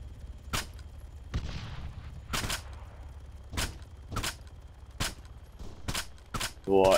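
A magazine emptied in an online shooter game, sharp gunshots fired one at a time at a steady, slightly quickening rhythm, about nine loud cracks in all.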